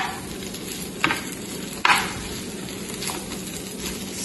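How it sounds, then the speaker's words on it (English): Shrimp skewers fry in a pan with a steady, close sizzle and crackle. Two sharper clicks from stirring or turning stand out briefly above the hiss. "we're just going to fry these until they're golden brown"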